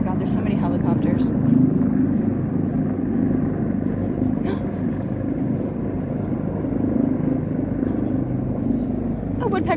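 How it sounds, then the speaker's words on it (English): Several helicopters drone overhead in San Diego as a low, continuous rumble under close talking. "Oh my god, there's so many helicopters."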